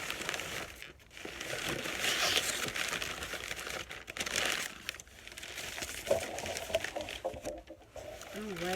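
Wrapping paper from an unboxed Dooney & Bourke bag crinkles softly and close by in intermittent rustling handfuls, with quiet pauses between.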